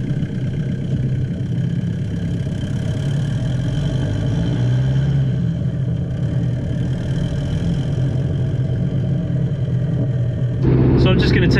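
A vehicle engine idles with a steady low rumble close by before a test drive after drive shaft shortening, and the sound grows louder and busier near the end.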